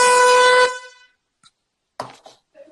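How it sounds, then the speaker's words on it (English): A loud, blaring air horn blast lasts about half a second and cuts off, followed by a few faint scattered noises. "I loved a random air horn"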